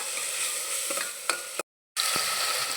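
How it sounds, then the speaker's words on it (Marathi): Tomatoes frying with chopped onion in a pan, a steady close sizzle with a few clinks of stirring, broken by a short silent gap before the sizzling resumes, with no voices. "यामध्ये टोमॅटो टाकून घ्यायचा आणि टोमॅटो छान असं भाजायचं आहे आपल्याला"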